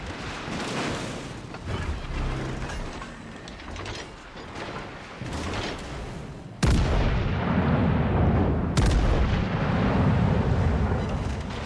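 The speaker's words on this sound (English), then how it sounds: "did the guy's secondaries just start shooting at 9 kilometers?" Heavy naval secondary battery guns fire in World of Warships: Legends, with booming blasts and rumbling, sustained roars. Two especially sharp, loud reports cut through midway, and the thunder continues throughout.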